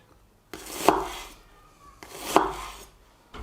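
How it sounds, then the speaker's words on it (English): A knife cuts an onion into strips on a board: two sharp, close chops about one and a half seconds apart, each a crisp blade strike through the layers followed by a brief scraping tail, with near silence between. "you cut it in half and then you just cut strips down"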